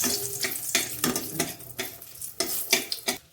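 Bay leaves and dried red chillies with garam masala crackle in hot oil for a Bengali-style cauliflower roast, giving short bursts of sizzling and stirring, several in quick succession, close and fairly soft, with no talking.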